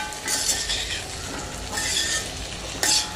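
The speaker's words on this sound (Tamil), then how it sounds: "இதை வந்து நல்லா ஸ்லோவாக விட்டுட்டு வதக்கிட்டு" Potatoes are sautéed slowly in a pan with coriander powder, chili powder and garam masala, giving a moderate sizzle broken by bursts of stirring and a sharp clink of a utensil near the end. No voice is heard.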